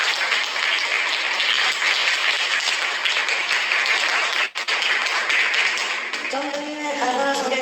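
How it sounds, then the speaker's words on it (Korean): Audience applause greeting a guest being introduced at a Korean talk event, a dense sustained wash of clapping throughout with a brief dip midway and faint speech emerging near the end. "박수로 맞이해주십시오."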